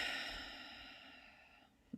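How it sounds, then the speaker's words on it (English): A long, steady breath out through the mouth after a deep inhale through the nose, close and soft, fading slowly with a faint sniff at the very end and no talking. "Take a big inhale through your nose and exhale through your mouth."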